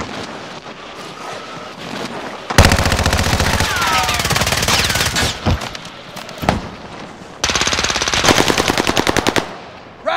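Rapid automatic fire from a machine gun in the Call of Duty shooter game comes in loud sustained bursts, broken by short pauses and a few single sharp shots.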